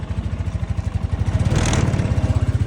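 A Honda Foresight 250 scooter engine runs after a relay replacement, its close, loud single-cylinder idle pulsing in a quick steady beat, swelling briefly as the throttle is blipped midway.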